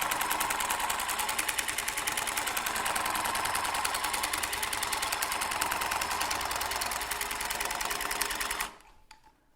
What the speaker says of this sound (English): as you see, I move the gun in the angle I want to go